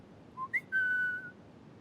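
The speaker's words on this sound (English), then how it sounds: "She takes a few steps forward and starts to pull up her pants when she hears a whistle next to her." In an audio drama, a person whistles in three short notes close by, two quick rising chirps and then a longer steady tone, with nothing else audible around them.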